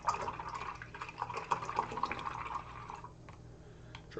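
A paintbrush is swished and rinsed in a water pot during model weathering work, giving soft, continuous close-up splashing and dripping that quiets toward the end.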